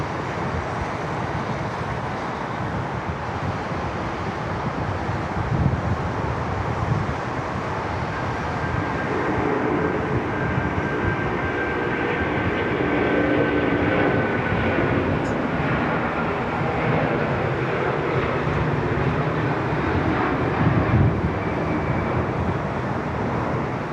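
A Qantas airliner landing on runway 34 left at Sydney Airport in a crosswind, a steady, loud broadband engine roar that swells and holds for the whole stretch with no talk.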